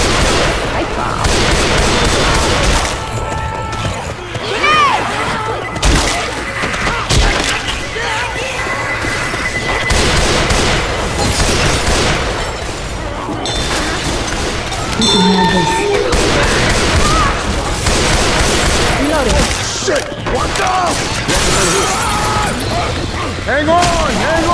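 Continuous gunfire from the Left 4 Dead 2 zombie shooter in the Dead Center mall, with dense rapid shots and bangs running throughout, mixed with constant shouting from the players.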